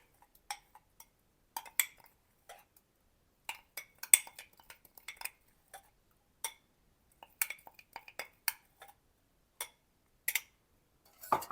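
Light clinks and scrapes of a spoon stirring sugar and honey in a bowl for a cake batter, irregular taps of metal on the dish, close and fairly soft, without voices.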